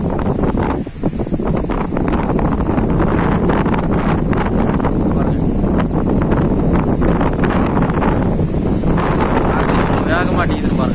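Strong storm wind roars steadily during heavy rain in Salem, buffeting the microphone with loud, continuous gusts and rustling throughout, a voice faintly heard beneath.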